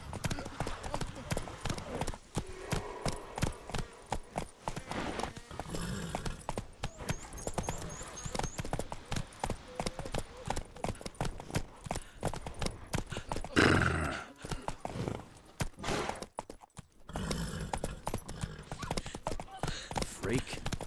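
Roach, a horse in The Witcher 3 video game, gallops with rapid, steady clip-clop hoofbeats that run the whole way through, close and loud, with brief whinnies and talk over the top.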